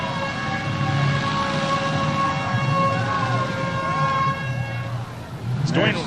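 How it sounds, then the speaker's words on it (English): A long, steady air horn blares at a demolition derby to signal everyone to stop, loud and sustained for several seconds before cutting off amid crowd noise and talk. "We heard the air horn go, and that means everybody stops."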